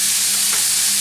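Bell peppers and onions frying in a pan, a steady close hiss of sizzling oil filling the brief moment with no talk.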